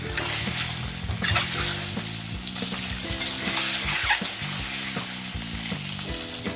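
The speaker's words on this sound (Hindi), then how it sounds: "अंडा को हमें लाल करके फ्राई करना है" Eggs frying in hot oil with turmeric and salt, a steady close sizzle with scraping stirs and occasional spatters over a low humming background.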